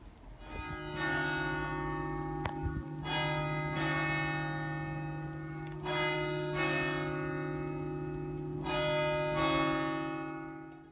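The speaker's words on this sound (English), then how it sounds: "Nova, we're going to get the church bell." A church bell in the Minecraft video game rings repeatedly in steady, evenly spaced strikes, each with a long bright metallic ring that overlaps the next, loud and alone.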